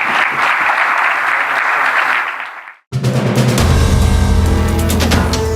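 Applause for a minister at the close of a live business news interview, a dense steady roar of clapping that breaks off abruptly, then gives way to loud music.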